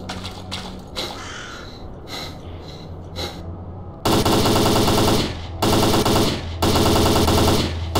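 Loud, sustained automatic gunfire in the video game STALKER Call of Pripyat, several long bursts with brief pauses between them, preceded by quieter scattered game sounds.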